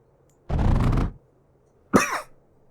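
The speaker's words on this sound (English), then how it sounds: "I had a little cough there" Two separate coughs close to the microphone, the first longer and harsher, the second short and sharp, with quiet between them.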